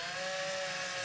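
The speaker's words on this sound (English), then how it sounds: "So all I'm going to do is drill a pilot hole" Small cordless drill with a tiny bit boring a pilot hole for a homemade glass scoring board, a short, steady high-pitched whine of the motor at close range.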